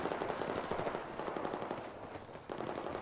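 Gunfire in the video game Battlefield 4 on PS4, a dense continuous clatter of rapid automatic shots with a brief dip before the firing resumes, loud and sustained for the whole stretch.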